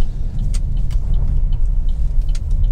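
A 1.4 turbo Vauxhall Mokka X automatic drives slowly around a turn, its steady engine and road rumble continuous and close, with faint light ticks above and no talking.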